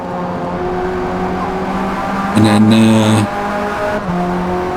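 A Ford Sierra RS500 race car in a racing video game drones at steady revs, then briefly rises in pitch and volume during a short upshift. A few words of talk come at the end.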